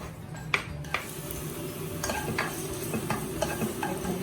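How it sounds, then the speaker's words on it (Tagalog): Oil sizzles steadily in a pan as ginger sautés while a utensil stirs and scrapes, with scattered clinks against the metal throughout. "Ngayon, magigisa tayo ng ginger."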